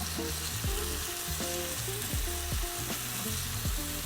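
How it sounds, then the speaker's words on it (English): Bread frying in vegan butter in a pan gives a loud, steady sizzle throughout, with the spatula or pan scraping and stirring in repeated strokes close by and no talking. "nice and sizzly, so let's just give this a little twirl, and we're gonna put our bread right in there"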